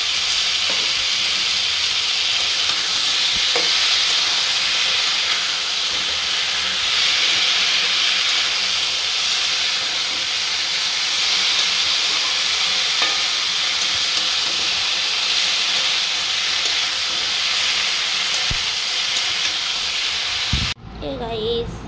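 A ground paste of turmeric, chili, ginger, cumin, pepper and coriander fries in hot oil, a steady loud sizzle and hiss close up that continues without pause until it is abruptly cut off near the end.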